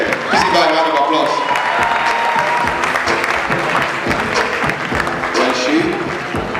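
An audience at a university public lecture applauds, steady dense clapping filling the hall while an amplified voice talks over it.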